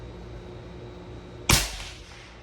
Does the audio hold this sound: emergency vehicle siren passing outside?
no